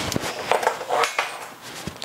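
Salsa of mango with olive oil, salt and pepper being mixed in a bowl with a utensil, giving a few light clinks and scrapes of metal against dish over about two seconds, fairly close and with no talking.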